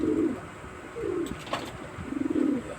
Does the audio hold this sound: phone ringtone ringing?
no